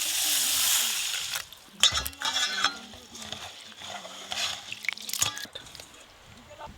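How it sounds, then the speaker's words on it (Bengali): Mung dal being washed by hand in water, with stirring swishes and drips of liquid, fairly close, while a person's voice murmurs intermittently over it. "মুগ ডালটা ধুয়ে নেব"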